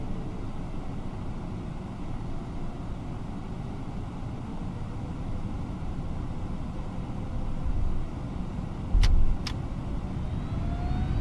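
Engines on a FlightSimLabs A321neo in a flight simulator spool up for takeoff, a steady low roar that builds slowly over several seconds, with a couple of brief clicks near the end and no voices.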